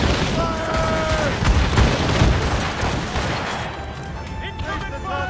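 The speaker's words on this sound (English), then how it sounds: "They are firing a volley!" Ship cannons fire a volley in the naval combat of Assassin's Creed Rogue, a rapid cluster of heavy booms and cracks that fade into rumbling, with raised voices mixed in.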